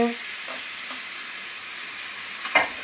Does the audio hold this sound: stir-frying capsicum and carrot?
yes